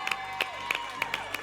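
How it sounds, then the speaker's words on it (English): Audience applause at a children's film awards ceremony, with a crowd clapping steadily and a few sharper claps cutting through at intervals, moderately loud throughout. "please give our incredible guests a round of applause"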